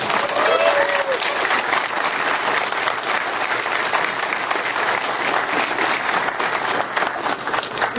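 Sustained, dense applause from a film screening audience at a Q&A after a showing of Thriller: A Cruel Picture, steady and loud for the full length with no break.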